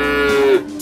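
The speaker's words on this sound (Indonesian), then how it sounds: "ini di hadapan saya ada 5 ekor sapi. 4 diantaranya masih pedet ya, Mas?" A cow or calf moos once, a long drawn-out low call, loud and close, at a livestock market holding five cattle, four of them young calves, with no talk over it.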